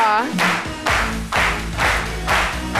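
A television studio audience applauds on a talk show set, with clapping rising in bursts alongside a loud rhythmic music beat that pulses repeatedly throughout.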